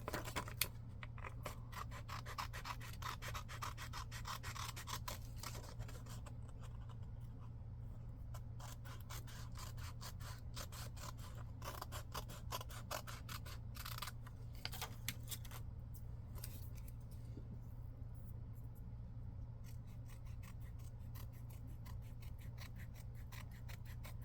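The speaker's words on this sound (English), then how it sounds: "Cut out Mini J." Scissors cut out a paper figure: soft, close snipping and rustling paper in an irregular run of cuts, faint against a steady low hum.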